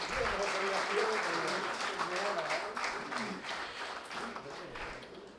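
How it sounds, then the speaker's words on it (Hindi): An audience at a Hindi poetry stage show applauds poet Jaimini, a dense wash of clapping that swells at first and then slowly thins, with a presenter's voice faintly over it. "एक बार जेमिनी जी के सम्मान में जोरदार तालियां बजाएं"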